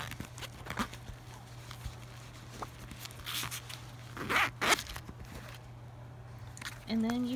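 A zipper closes the change pocket of a leather men's bifold wallet in two quick, close rasping pulls midway through, with quiet handling noises around them.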